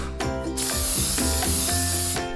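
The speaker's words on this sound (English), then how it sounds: "Now you're going to spray the cooking spray on the pan." A close aerosol cooking spray hisses onto a pan in a continuous burst, starting after a brief pause and lasting about two seconds.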